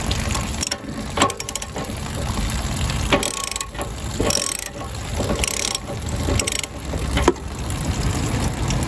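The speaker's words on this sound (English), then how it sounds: "we're going to take our 1 1/16 inch ratchet. We're going to remove the anode rod." A 1 1/16 inch ratchet loosens the anode rod on an RV water heater, giving loud, close bursts of rapid pawl clicking that stop and start with brief pauses.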